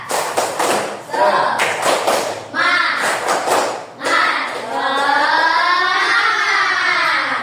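A classroom group performs a rhythmic clapping chant, sharp close claps in quick bursts mixed with loud chanted voices, ending in a sustained vocal passage.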